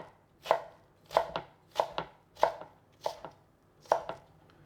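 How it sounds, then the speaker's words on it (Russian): A knife slices a leek into thin strips on a cutting board, six or so crisp strokes at an even pace, each with a softer follow-up tap, close and fairly quiet. "Беру, разрезаю вдоль. И аккуратно нарезаю тоненькой соломкой."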